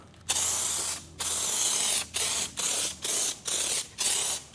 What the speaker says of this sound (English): So I spray it on.